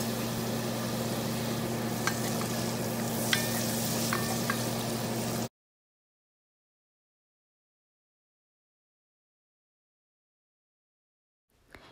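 Red onions and garlic sizzle steadily in a pan with a few light utensil clicks for about five seconds, then the sound cuts to silence before a faint noise returns at the end.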